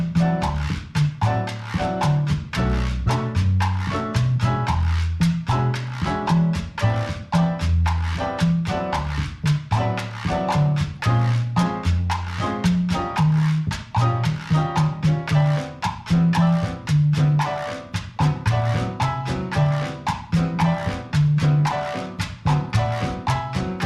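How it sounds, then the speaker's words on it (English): Latin percussion and piano play the masacote solo section of a cha-cha, a dense, driving groove of steady, evenly spaced hand-drum and bell hits under repeating piano montuno chords, loud and continuous throughout. "Now, I'm going to play 8 bars of the A section with 8 bars of the masacote section or the solo"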